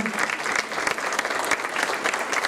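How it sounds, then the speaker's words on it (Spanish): At a local history talk session, an audience gives Colonel Vicente Garza a full round of applause: brisk, continuous clapping from a roomful of people, fairly close and loud, with a few faint voices mixed in. "Un aplauso para el coronel Vicente Garza."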